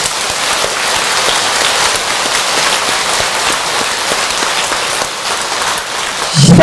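Loud, dense applause from a large audience at a Buddhist Avatamsaka dharma assembly in a temple hall, a steady continuous roar of clapping that eases briefly near the end before swelling again.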